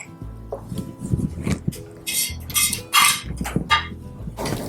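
A utensil clinks and scrapes against a pot or bowl while dill is stirred into fava, a Turkish olive-oil bean purée, in a series of close, uneven metallic taps and scrapes with no talk.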